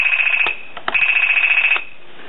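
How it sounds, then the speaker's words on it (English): A British MOD PTC-405 field telephone rings a TA-312 field set: a loud, steady electronic ring tone that sounds continuously across the clip, broken by brief clicks, then cuts off near the end. "Good strong ring signal."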